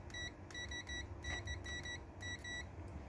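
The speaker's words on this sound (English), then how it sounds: "So at this point here on the chassis, I should get an audible beep, which proves that my earth strap is working." A continuity tester on a Mini chassis gives a series of short, high electronic beeps in irregular bursts, close and clear over a low background hum.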